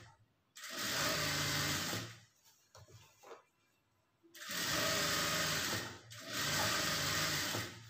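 Sewing machine stitching blouse lining fabric runs loud and close in three steady bursts, with a pause of quieter handling sounds between the first and second runs.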